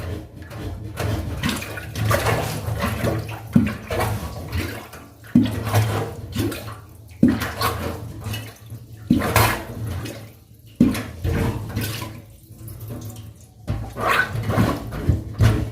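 Water gurgles and rushes down a blocked kitchen sink drain as it clears, in repeated surges, close by, with a hollow sloshing swirl between the louder pulses.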